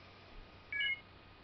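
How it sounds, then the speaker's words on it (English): An iPod Touch 2G gives a short electronic beep on reconnecting to a computer, a single faint tone burst over low background hiss. "my iPod just beeped saying that it was connected to the computer"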